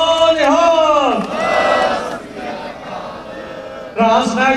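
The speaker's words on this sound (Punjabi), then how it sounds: "ਜ਼ੋਰਦਾਰ ਇੱਕ ਇਹਨਾਂ ਦੇ ਲਈ ਤਾੜੀਆਂ ਤੇ ਬੋਲੇ ਸੋਨਿਹਾਲ" A crowd at a Sikh parade in Sacramento raises a loud, sustained collective cheer of voiced shouts, swelling, dipping in the middle and surging again near the end.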